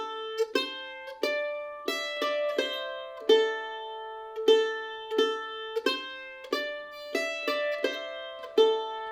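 Mandolin plays the ending lick from the A part of the bluegrass tune Cluck Old Hen, a run of bright, cleanly picked notes in a steady rhythm, close and solo with no talking.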